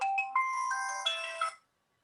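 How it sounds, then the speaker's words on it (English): A phone ringtone plays a short melodic chime of a few bright, tonal notes for about a second and a half, clear and alone before cutting off into silence. "Let me turn my phone off."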